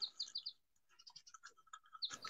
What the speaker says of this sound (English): This bird's too noisy.